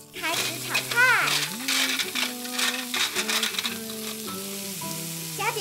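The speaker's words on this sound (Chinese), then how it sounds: "放好炒锅，把蔬菜放进去，开始炒菜，" A toy kitchen's stir-frying sound effect for vegetables: a bright, steady electronic sizzle runs throughout, layered with tonal, melodic chirps and voice-like sounds.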